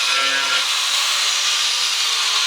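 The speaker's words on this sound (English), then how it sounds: "Now I'm going to grab my grinder and get ready to cut." An angle grinder with a tile-cutting bit slices along a tape line, a steady, loud, high-pitched abrasive whine that holds evenly throughout, with a brief low hum at the start.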